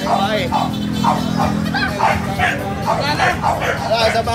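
Small dogs, including a Pomeranian, yip and bark in repeated short bursts at a busy outdoor pet market, mixed with steady crowd babble and a seller talking over them.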